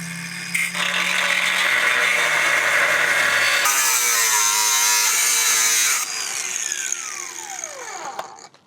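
Cutting tool slicing through brackets welded to the frame of a 1993 Chevrolet C3500 dually truck, a loud, steady grinding whine lasting several seconds that shifts pitch partway, then tapers and winds down at the end.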